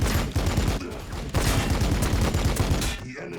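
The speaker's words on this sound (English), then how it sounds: "Can shoot with the assault cannon." An assault cannon in a Warhammer 40,000 battle game fires a loud, rapid, sustained stream of heavy rounds, close and steady for about three seconds before cutting off abruptly.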